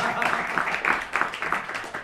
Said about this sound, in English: Well, give him a round of applause anyway.